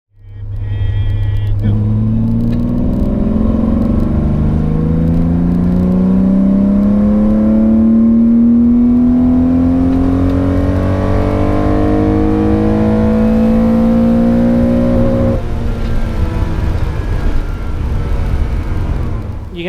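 A Porsche 911 2.8 RSR engine revs loud and close on a cool morning, its pitch climbing steadily through the rev range for about fifteen seconds before dropping back to a rough idle.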